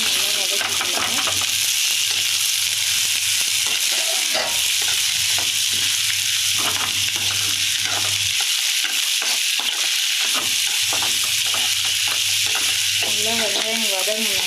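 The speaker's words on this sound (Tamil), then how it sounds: "நல்லா வெங்காயம் வதங்கணும், நல்லா டேஸ்ட்டாக இருக்கும்." Onions sautéing in a pan for prawn masala, with a loud, steady sizzle and repeated stirring scrapes. Brief pauses and bursts break it up, and it runs without talk.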